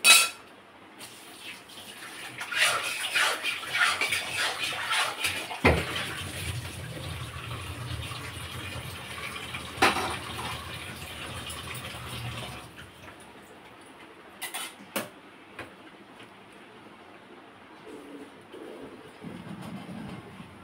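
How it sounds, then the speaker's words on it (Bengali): Tap water runs over a kadai (wok) being washed in a home kitchen, a continuous splashing gush for several seconds that then cuts off, leaving faint clinks and handling sounds. "এবারে ধুয়ে নিই কড়াটা।"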